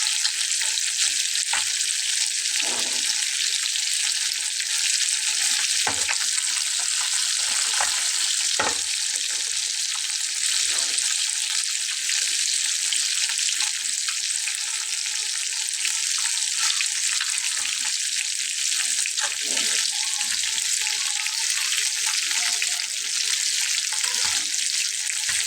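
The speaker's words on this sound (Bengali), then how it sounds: "তো মাছটাকে কিন্তু কড়া করে ভাজতে হবে।" Fish fries hard in oil in a pan, producing a bright, steady sizzle that runs without a break, dotted with soft clicks and scrapes of turning.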